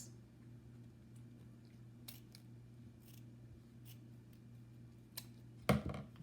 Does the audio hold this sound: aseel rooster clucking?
no